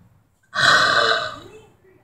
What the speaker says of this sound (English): Devil burp.